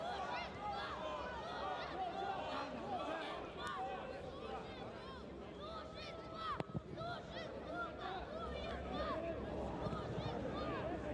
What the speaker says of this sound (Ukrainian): Давайте послухаємо. Ми так скучили за цими вигуками.